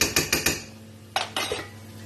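Cooked nettles and potatoes being mixed in a pot for a nettle brandade, with a quick run of four metallic utensil clinks against the pot followed by two more knocks a moment later, close and clear with no talking.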